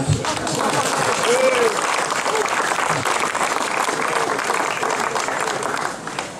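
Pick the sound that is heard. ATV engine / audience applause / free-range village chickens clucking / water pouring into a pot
audience applause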